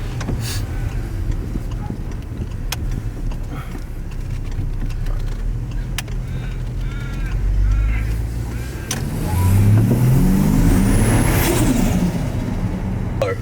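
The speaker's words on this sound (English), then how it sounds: "We're gonna get a little bit of a dose clip to see what it sounds like after the air intake" A car fitted with an aftermarket air intake idles nearby, then revs up with a rising engine roar in the second half, with faint scattered background noise.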